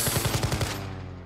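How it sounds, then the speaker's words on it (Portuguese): A rapid burst of about seven machine gun shots in quick succession in the video game Last Train Home, then a fading reverberant tail. "Eu vou provavelmente tomar uns tiros de metralhadora,"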